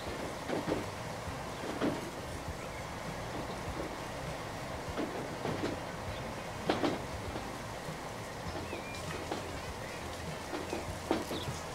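A train riding along in Transport Fever 2, steady rolling rumble with periodic clicks and clacks of wheels over rail joints, moderately loud and continuous.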